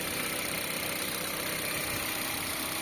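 A Mitsubishi Xpander's 1500 cc four-cylinder engine with about 134,000 km idles smoothly and steadily at close range, a constant even hum with no voices.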